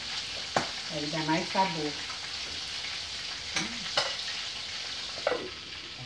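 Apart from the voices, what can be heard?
onion frying in a pan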